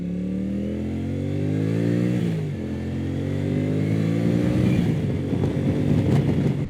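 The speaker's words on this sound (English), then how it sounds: "The noise the wastegate makes as you let go of the throttle on boost." Turbocharged Honda motorcycle engine revving past 6,000 RPM, then the throttle is let go on boost: a loud, close engine tone rises in pitch, dips, then climbs again into a rougher, fluttering whoosh from the wastegate.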